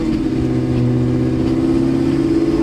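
A Terminator Cobra fitted with Stage 3 Comp cams rumbles loud and steady, its engine note holding at high revs throughout with a rough, throaty drone.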